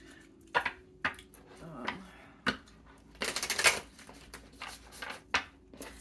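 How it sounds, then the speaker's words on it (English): Quick crisp riffles and soft slaps of cards being shuffled, in several short bursts with brief pauses, close by and fairly quiet. "I just want to shuffle these ones as well."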